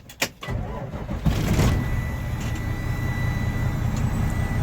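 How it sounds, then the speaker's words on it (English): A truck engine cranks with a few sharp bursts, then catches and settles into a steady, close, loud idle rumble that runs to the end. "When I go to start the truck"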